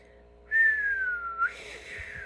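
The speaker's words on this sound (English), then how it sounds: "The wind blew harder." A thin, high whistling tone rises in, holds and slowly falls for about a second, then gives way to a breathy rushing hiss of wind.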